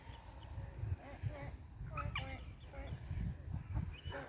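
Mallard ducks quacking in short nasal bursts close by, several calls scattered through the clip over low rustling background.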